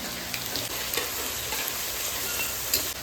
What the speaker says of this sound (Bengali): ফোড়নে দিয়ে দেবো তেজপাতা আর জিরে, আমি দিয়ে দেবো কাশ্মীরি লঙ্কা